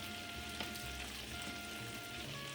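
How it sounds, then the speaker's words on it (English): Butter melting in a pan already seasoned from shrimp gives a faint, steady sizzle, quiet and continuous, heard up close with no talk. "add a little bit more butter into that same pan"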